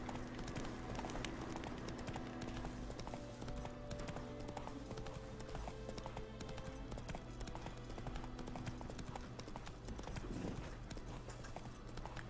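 Roach the horse gallops in The Witcher 3, hooves clip-clopping in a fast continuous rhythm for the whole stretch, fairly close and steady against a low background hum.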